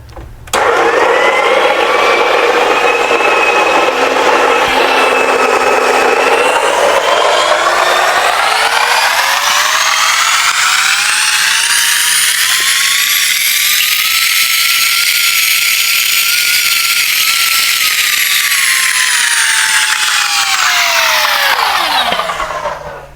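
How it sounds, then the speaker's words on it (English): A La Pavona coffee grinder grinds coffee beans with a loud, continuous motor whine that rises in pitch, holds, then winds down at the end, close and alone. "It's a La Pavona grinder, and you know, coffee starts with a good grind."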